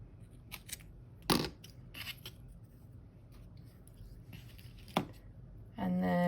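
Scissors snip off the excess string from a hanging wooden watercolor ornament, giving two or three sharp, close cuts over a quiet room, with a brief rustle at the end.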